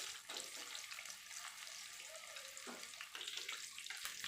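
Chicken pieces frying in hot oil for a sweet and spicy Korean-style fried chicken, a steady dense hiss and crackle close by that carries on throughout with no one speaking.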